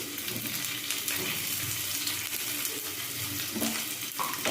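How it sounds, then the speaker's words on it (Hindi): Cashews, green chillies and whole cumin seeds fry in a pan with a steady, close sizzle, scraped by stirring now and then, as the base for a broccoli butter masala. "हम इसको थोड़ी भून लेंगे 1 मिनट के जैसे"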